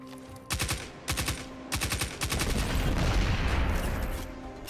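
Bursts of video-game gunfire in Destiny 2 hitting canisters of enhanced ether, several loud rapid volleys with short gaps, then a sustained rumbling explosion that swells and fades, with no speech over it.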